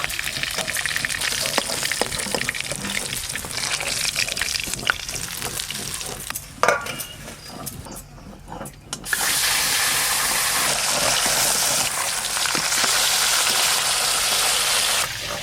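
Fish, rohu, frying in hot oil in a pan, a steady loud sizzle with scraping stirs, briefly quieting midway then surging back to a dense, continuous crackle.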